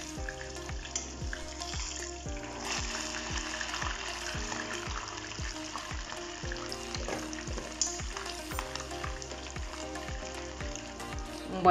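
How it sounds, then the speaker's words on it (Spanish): Chicken wings frying in oil, a steady close sizzle and crackle running throughout under a regular looping musical beat, with no talk. "Y aquí vamos a freír nuestras alitas."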